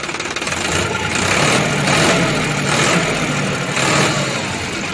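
A Sonalika 35 tractor engine idles steadily nearby, a loud continuous diesel rumble with a slight rhythmic pulsing throughout.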